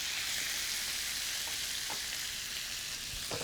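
Scallops sear in butter with a squeeze of lemon juice, giving a steady, close hiss of frying with a few soft stirring ticks near the end; no one speaks.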